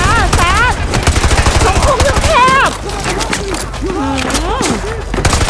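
Rapid bursts of automatic gunfire crackle through a Call of Duty Modern Warfare 2 Remastered firefight, close and loud, while excited voices talk over the shooting.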